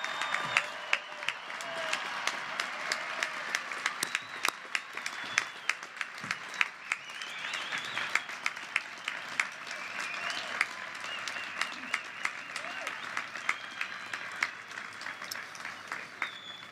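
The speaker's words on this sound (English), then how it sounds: "How about another big round of applause for all of our outstanding graduates?" A crowd applauds steadily for the whole stretch at a Ball State University commencement ceremony, dense clapping that stays loud and even without pausing.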